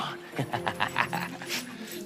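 A dog gives a series of short, close yips and whimpering yelps in a quick uneven rhythm, fairly loud, with faint background hum.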